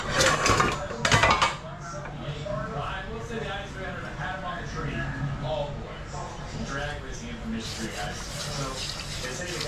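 A Dutch pot and cooking gear are set up on a stove, with metallic clanks and knocks, loudest near the start and again toward the end. A person talks almost the whole time over the handling noises.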